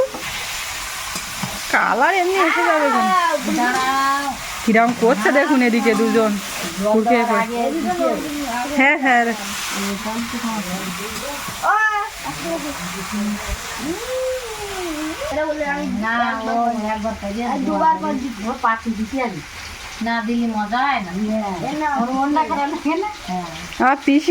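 Duck meat frying in a pan after ginger and garlic have been sautéed gives a steady, hissing sizzle with occasional stirring, while people talk loudly and continuously over the cooking.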